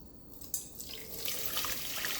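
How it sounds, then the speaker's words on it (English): Liquid floor wash poured through a strainer, a steady close splashing trickle that builds and continues without pause. "I'm just going to take this and I'm just going to pour"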